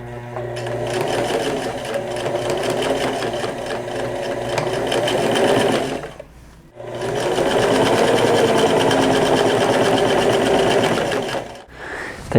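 A sewing machine stitches the outside leg seam of a pair of pants, running loud and steady in two long bursts with a brief pause between them and a short stop near the end.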